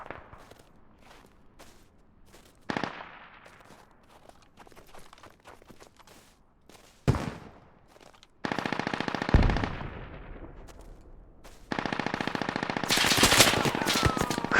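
Machine gun fire in a video game comes in several long, rapid bursts, loud and close, separated by quieter gaps that hold single shots and movement sounds, with the heaviest sustained firing near the end.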